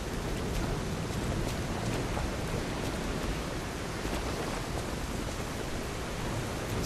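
Steady rain falling in the video game Lies of P, a dense, even hiss of drops that holds at the same loudness without a break and with no voices over it.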